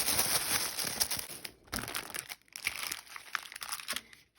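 Fancy sparkly tissue paper crinkles and rustles continuously as a pink gift bag is opened, close and fairly loud with brief pauses, crunchy tearing-like bursts throughout.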